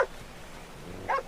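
A dog barks twice in Red Dead Redemption 2, one short bark right at the start and another about a second later, fairly close, with quiet ambience between.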